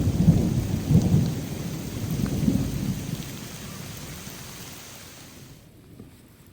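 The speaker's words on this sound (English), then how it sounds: "When the storm broke" Thunder rumbles low and heavy over steady rain in the St Joe National Forest, Idaho, the rolling booms strongest at first then gradually fading while the rain hiss continues.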